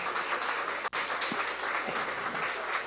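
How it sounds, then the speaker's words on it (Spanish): Steady, dense applause from an audience at the inauguration of a school education centre in Ciudad Tiuna, sustained without pause and with no voices over it. "Un saludo, un aplauso a todos ustedes."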